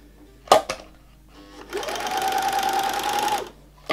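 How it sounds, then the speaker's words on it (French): An overlock serger sewing machine running a three-thread chain with no fabric, a fast buzzing whir of about two seconds between brief handling clicks and knocks, heard close and alone. "je vais faire boucler ma machine dans le vide pour que la chaînette reprenne une forme à 3 fils"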